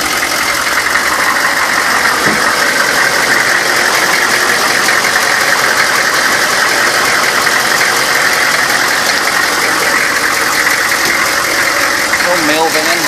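A 2003 Workhorse mail van's engine runs steadily in drive, a loud, continuous droning hum close to the listener, with a voice speaking over it.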